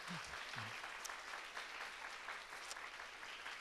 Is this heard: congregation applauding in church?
yes